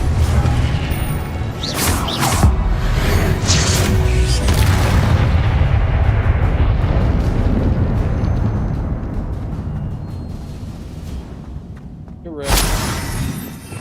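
A loud Confringo spell explosion in Hogwarts Legacy, with shattering, crashing bursts over a sustained rumbling roar, then a fresh sharp blast near the end, over occasional speech.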